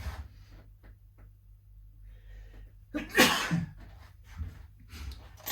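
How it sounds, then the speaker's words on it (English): A single sharp sneeze bursts out near the middle, loud and close, with a low steady hum and faint noises around it. "I sneeze."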